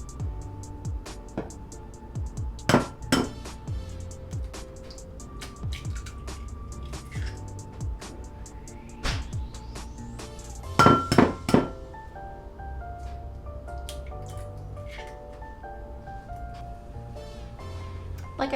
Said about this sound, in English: we are going to use 2 eggs and we are going to whisk them together